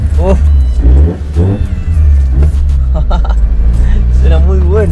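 A Chevrolet Corsa engine with a direct air intake rises and falls in pitch as it revs in short pulls, loud and close, with a deep steady rumble underneath.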